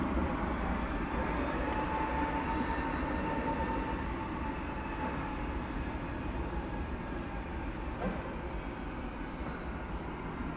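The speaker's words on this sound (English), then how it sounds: "That was flight 1588 arriving from San Francisco on an Airbus" An Airbus A321 arriving from San Francisco at Dallas Fort Worth gives a continuous, even engine rumble and rush with a faint whine on top, steady in loudness and heard alone without talk.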